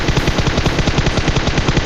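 Rapid automatic fire from an M4 rifle in PUBG, a loud, continuous burst of evenly spaced shots at a fast, steady rhythm with no speech.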